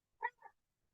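A quiet two-part meow from an affectionate female cat named Luba, close by, with a louder first note and a softer second, otherwise near silence.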